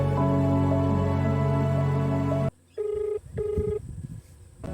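Two short, clear telephone keypad dialing beeps ring out close by, following a few seconds of steady background music that cuts off abruptly.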